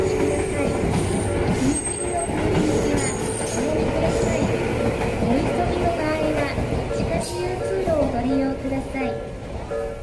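A train rumbles and squeals past a level crossing near Takenotsuka station in Adachi, Tokyo, under a repeated loud recorded announcement at the crossing, with a steady rolling drone throughout.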